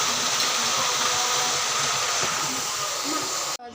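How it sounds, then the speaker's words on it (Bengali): A pressure cooker boiling on the stove lets out a loud, steady hiss of escaping steam that runs almost unbroken, then cuts off abruptly near the end. "প্রেসারে সিদ্ধ করে নিচ্ছি।"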